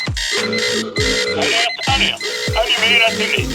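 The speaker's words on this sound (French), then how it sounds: "À ce moment-là, des alarmes retentirent." Repeated electronic alarm tones ring in loud, regular bursts in a Simpsons cartoon, each starting with a sharp low thump, several cycles in a row.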